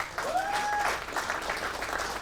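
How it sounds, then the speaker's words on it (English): An SNCO induction ceremony crowd at Lajes Field gives a sustained round of applause, many hands clapping together at an even level, with a brief whistle-like tone rising over the start. "Round of applause for Top."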